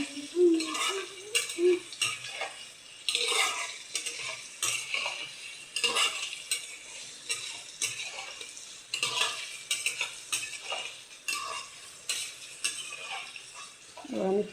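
Paneer cubes fry and are stirred in a pan for a paneer masala curry, with repeated scraping and clinking of a utensil against the pan over a soft sizzle.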